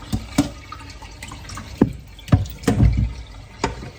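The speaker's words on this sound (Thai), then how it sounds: "รองใส่กระชอนแบบนี้ค่ะ ให้เสด็จน้ำนะคะ" Water drips and trickles from fish balls draining in a kitchen colander after an ice-water soak, heard as a series of close, irregular splashes and patters with quiet gaps between them.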